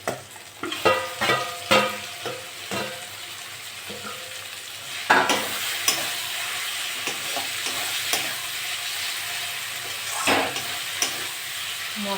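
Amadi fish with spices, onion and tomato fries in a pan while being stirred, giving loud close sizzling with repeated scraping strokes and a few clanks, strongest at first and settling into a steady hiss.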